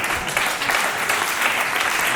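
An audience at a Catalan stand-up comedy show breaks into brisk, close applause, a thick even wash of clapping that fills the whole brief moment.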